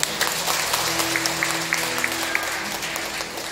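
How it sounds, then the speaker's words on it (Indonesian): A church congregation claps steadily in sustained applause, a dense patter of hands with a faint tonal hum beneath. "Tepuk tangan yang meriah"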